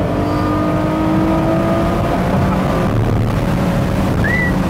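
A Ferrari 599 SA Aperta's engine drones loudly through the whole stretch, a steady engine note with rising and falling tones under heavy wind rush, close and alone with no voices.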